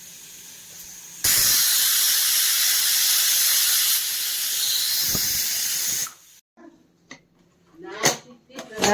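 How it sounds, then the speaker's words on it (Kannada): A pressure cooker of mint pulao lets out a loud, steady hiss of escaping steam for several seconds before it cuts off, followed by softer kitchen clatter and a voice. "ಈಗ ಲಿಡ್ ಕ್ಲೋಸ್ ಮಾಡಿ ಒಂದು ವಿಜಿಲ್ ಬಂದರೆ ಸಾಕು"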